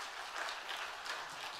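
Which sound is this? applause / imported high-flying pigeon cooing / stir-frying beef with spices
applause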